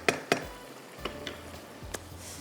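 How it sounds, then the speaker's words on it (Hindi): Meat frying on its own in a pan gives a soft steady sizzle, broken by a few sharp clicks and scrapes of a utensil stirring against the metal, close and quiet with no talking. "ये देखें गोश्त जो है हमारा ये यहाँ पर अलग से अच्छी तरह से भून रहा है"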